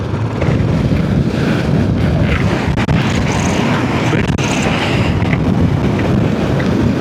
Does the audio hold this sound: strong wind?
yes